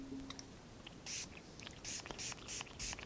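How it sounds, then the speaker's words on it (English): Cleaner is sprayed onto a scratched, unreadable disc during home cleaning, with several short, quiet hissing spritzes in quick succession. "And then we're going to hit it with the spray."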